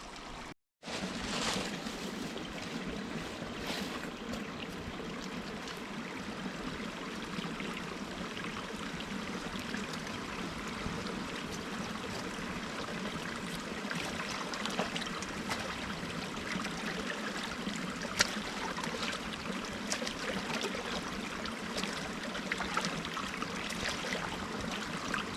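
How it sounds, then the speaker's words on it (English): Running water of a mountain stream near a backpacking campsite on the Pacific Crest Trail: a steady close trickle and gurgle that continues throughout, with faint handling noise and no talk. "we have water. Running water."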